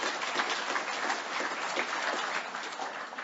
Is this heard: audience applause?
yes